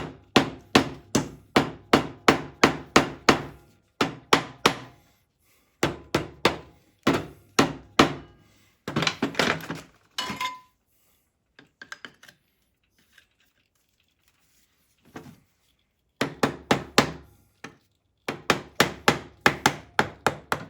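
Rapid bursts of solid thumping rubber hammer whacks on a Yamaha 225DX Tri-Moto three-wheeler during restoration, several strikes in quick succession, pausing briefly between rounds before starting again, fairly close and loud.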